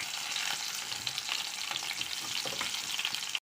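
Chopped onion and curry leaves frying in hot oil with mustard seeds, a dense crackling sizzle heard up close, broken by quick stirring scrapes and spits, continuous and steady with no voices.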